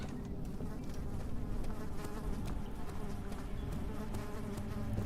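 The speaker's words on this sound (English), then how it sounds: "I gotta listen to bugs buzzing in my fucking ear." Insects buzz in the Amnesia: The Dark Descent video game, a continuous close droning hum with flickering wingbeat texture, steady and fairly quiet, with no talk over it.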